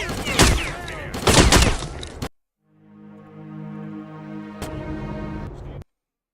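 Machine-gun fire in STALKER Clear Sky, with loud, dense bursts of shots up close at the start, then a steady droning, voice-like tone with a final sharp crack before it cuts off.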